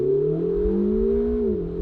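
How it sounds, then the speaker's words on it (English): A supercar engine revs steadily, its pitch holding high and then dropping near the end as it downshifts; close and loud, with no talking over it. "I love the downshifts."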